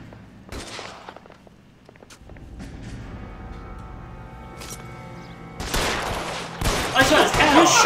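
Gunfire in the video game L.A. Noire, scattered sharp single shots and clatter early on, building into a dense, loud volley of rapid shots toward the end, with faint background sounds between bursts.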